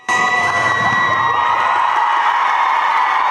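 Loud crowd cheering and applause for a cheerleading duo's performance at the Ukraine Cup, with excited shouts and whoops over steady clapping throughout.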